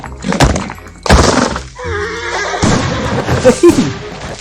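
Horse neighing in the Free Fire video game during a horse-riding emote, loud and close, mixed with heavy thuds and impact sounds over about four seconds.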